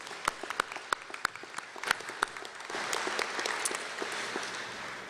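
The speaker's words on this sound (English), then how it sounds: "So big round of applause for all of our sponsors." At a volunteer breakfast, scattered individual claps start the applause for the event sponsors, then swell into fuller, steady clapping from the seated audience that carries on to the end, moderately quiet.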